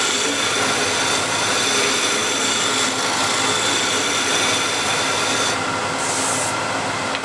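A wood turning tool rides the bevel as it cuts a spinning spindle on a lathe, making a steady, loud, continuous hissing scrape that runs unbroken throughout.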